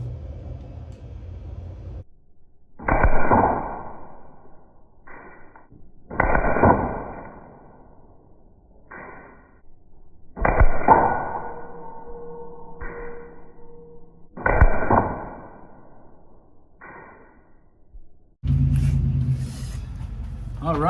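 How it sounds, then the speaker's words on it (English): A Crosman 1077 air rifle firing pointed Crosman pellets, several sharp close shots spaced a few seconds apart, each a brief crack with a ringing tail, with a heavier thump and rustle near the end. "Let's go with the pointed Crosman pellets."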